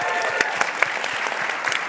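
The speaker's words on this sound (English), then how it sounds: "they're clapping for you." An audience at a national Arab American convention claps in a sustained, even round of applause with sharp individual claps standing out near and loud, with a faint voice underneath.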